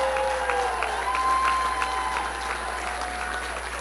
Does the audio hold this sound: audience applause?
yes